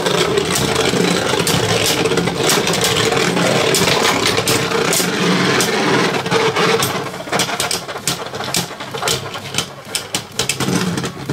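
Beyblade spinning tops Geist Fafnir F4 and Takara Tomy Wing Valkyrie battle in a stadium, making a loud continuous whirring grind with dense rapid clicks and clashes that ease slightly toward the end.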